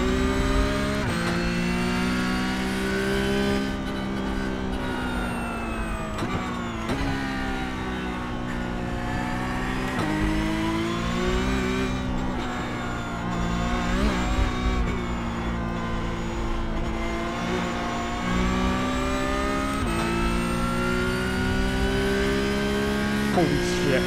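Porsche Cup race car engine in the iRacing sim on the Charlotte Roval, a loud continuous harmonic drone rising and falling as the car accelerates, shifts and brakes through corners, steady throughout with no clear pauses.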